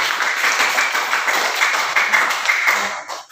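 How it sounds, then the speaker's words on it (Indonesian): Audience applause for a student group after their classroom presentation: steady, dense clapping from many hands, fairly close, fading out at the end. "kasih tepuk tangan untuk kelompok"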